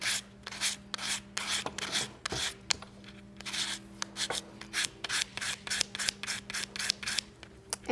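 Steady, rhythmic rasping strokes of sanding on metal repeat back and forth at a close distance, with a faint electrical hum underneath.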